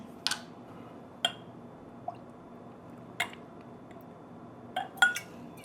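Balvenie Scotch whisky poured into a small glass: a few sharp glass clinks and soft drips come at uneven intervals, quiet and close, with no talking.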